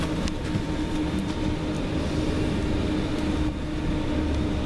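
A train pulls into Stoke-on-Trent station with a steady, close rumble of wheels and carriage noise, broken by faint clicks and squeaks.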